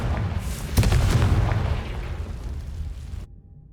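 A Confringo fire spell explodes in the video game Hogwarts Legacy: a loud, close boom with a sharp burst near the start, then a rumbling roar that decays over about three seconds before cutting to silence.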